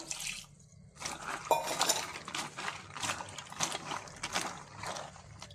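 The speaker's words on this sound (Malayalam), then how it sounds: "ഒന്നുകൂടി വെള്ളം ഒഴിച്ച് കഴുകാം" Peanuts being rinsed by hand in water in a vessel, with soft irregular sloshing, drips and splashes close by, coming in short bursts with brief quiet gaps between them.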